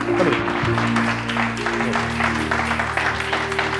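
A church congregation applauds and cheers in praise, a steady wash of clapping and voices sustained throughout, with sustained music underneath.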